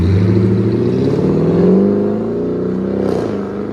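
A 2019 Dodge Durango R/T with a 5.7L HEMI V8 and rear muffler delete accelerates hard nearby, its deep rumbling exhaust rising in a steady loud pull before easing off, with no talk over it.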